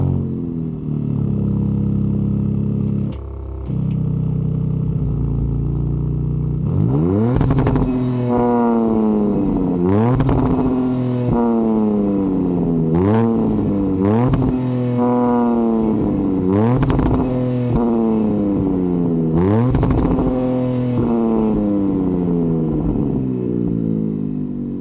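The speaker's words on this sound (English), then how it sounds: "Dodge says it's an active exhaust system. So let's go ahead and fire it up." A 2026 Dodge Charger Sixpack Scat Pack twin-turbo engine fires up with its active exhaust, then blips through a run of sharp, rising revs, each climbing and falling back to a steady idle, loud and close with no talk.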